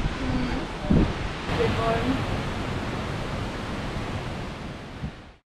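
Strong wind buffets the microphone on a motorcycle trip along the German Alpine Road just before a thunderstorm, a loud continuous rushing roar with a few thumps, then an abrupt cutoff.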